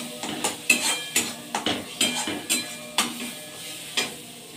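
A spoon scrapes and taps rhythmically around an oily pan of fish masala being stirred, with roughly ten distinct clinks over a soft background sizzle.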